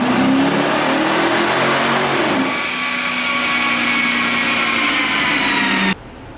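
A drag race car engine on dyno rollers wails at high revs, loud and steady, then shifts to a lower sustained drone before cutting off sharply near the end.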